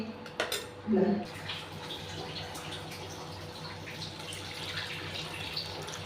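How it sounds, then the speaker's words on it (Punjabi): Water is poured into a pan of vegetable curry thickened with gram flour. A brief metallic clink comes first, then a soft, steady wash of liquid at low level. "ਆਪਾਂ ਜੀ ਥੋੜਾ ਜਿਹਾ ਪਾਣੀ ਪਾਇਆ"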